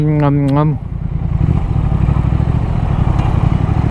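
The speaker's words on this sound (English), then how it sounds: "Oh, I just love that sound. It is the best sounding bike." A motorcycle engine revving hard and holding at a high, buzzing pitch, loud and close, with a brief human vocalization just before the engine takes over.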